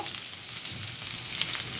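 Onion and prawns frying in oil in a home kitchen give off a soft, steady sizzle with a faint stirring scrape, quiet and close, with no voices.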